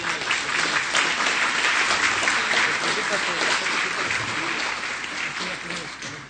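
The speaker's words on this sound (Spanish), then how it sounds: "Fuerte el aplauso para nuestro distinguido ponente." Sustained audience applause at an electoral law conference session, a dense wash of clapping from a large crowd, steady and loud throughout with no break.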